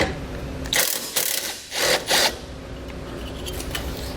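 A ratchet wrench works a 12mm bolt loose on a Roadmaster crossbar-style base plate installation, giving several quick bursts of close metallic clicking over about a second and a half, then falling quiet.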